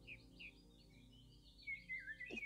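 Spring birdsong by a lake, with soft chirps and tweets recurring through the stretch and growing brighter and more frequent toward the end, fairly faint and without speech.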